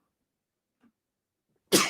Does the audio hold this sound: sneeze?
yes